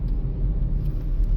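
Skoda Slavia 1.0 Turbo with manual gearbox, engine pulling under acceleration around 2000 RPM, a steady close low rumble heard from inside the car with no talk.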